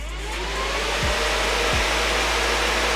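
A Braun Silencio hair dryer running continuously, a steady close whooshing blow of air with a low motor hum, loud and unbroken apart from two brief low thumps.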